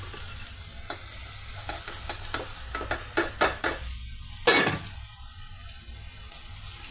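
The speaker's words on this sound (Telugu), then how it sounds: "ఇప్పుడు ఇందులో మనం కట్ చేసి పెట్టుకున్న ఈ బీరకాయ పీసెస్ని యాడ్ చేసేద్దామండి" Ridge gourd pieces and onions fry in a pan, with a soft sizzle under a run of sharp spatula scrapes and clacks and one louder stirring burst, and no voices.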